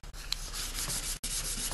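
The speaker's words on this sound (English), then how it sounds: "So let's go ahead and sand this thing down." A wooden project sanded by hand, a steady close scratchy rubbing of abrasive on wood with a brief pause midway, quiet and alone with no talking.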